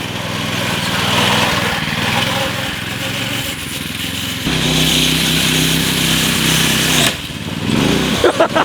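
Go-kart engine buzzing loudly and close with a raspy, high-pitched drone, its pitch and tone shifting as the kart changes speed.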